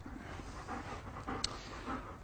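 A military dog in the field panting close by, a quick rhythmic run of breathy puffs, faint and low, with a small click partway through.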